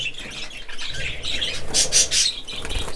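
Budgerigar chirping and squawking up close, a flurry of sharp, bright calls with a couple of loud harsh squawks near the end, over faint rustling.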